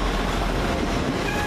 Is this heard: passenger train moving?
yes